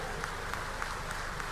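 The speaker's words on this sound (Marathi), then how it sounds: "महिलांनी मुख्यमंत्र्यांकरता जोरदार टाळ्या वाजवल्या पाहिजे" A crowd at a political rally applauds the chief minister, a dense, steady wash of clapping heard from a distance that holds at an even level throughout.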